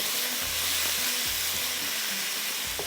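Ginger and garlic fry for qeema in a pan, a steady, bright broadband sizzle that holds throughout at moderate loudness, with a low hum and occasional soft knocks underneath.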